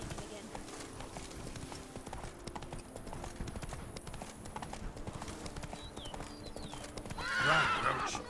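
Horse hooves clip-clopping in The Witcher 3: Blood and Wine, a steady rhythmic trot under game sound and speech, ending with a loud whinny from the horse near the close.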